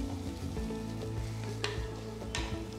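Sliced garlic, green chilli and onion sauté in a pan, crackling in a steady sizzle broken by a couple of sharp spatula scrapes and stirring clicks, close by with no speech.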